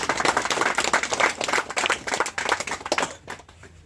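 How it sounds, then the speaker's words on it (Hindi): A crowd applauds steadily with dense, continuous clapping at the opening of the Jeewana satellite pomegranate market, then the sound thins out and stops near the end. "ताली बजाओ सब लोग।"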